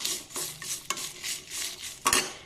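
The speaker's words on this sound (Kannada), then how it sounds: "ಮೆಂತೆನ ಹುರಿಬೇಕು, ಸ್ವಲ್ಪ ಕೆಂಪಾಗಬೇಕಷ್ಟೆ" Fenugreek seeds roasting in a pan, giving a dry, steady sizzling rustle with a few sharp clinks of a spoon or spatula against the pan; close and moderately loud, with no talking.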